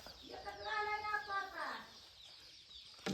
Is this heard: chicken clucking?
yes